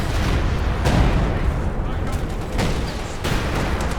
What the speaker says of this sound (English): Nicko is dropping the 240mm howitzer barrage on top of that Raketin